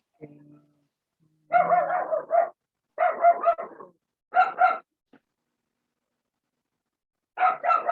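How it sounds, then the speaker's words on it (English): A dog barks indoors in four loud, close bursts of several rapid barks each, with short silences between them and no one talking. "And my dog is barking."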